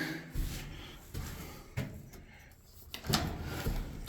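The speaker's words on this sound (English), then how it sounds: "Door opens and closes nicely." A newly installed door on a shipping container build is opened and closed, giving a few soft thuds and rattling clunks over a background of steady outdoor noise, with no one talking.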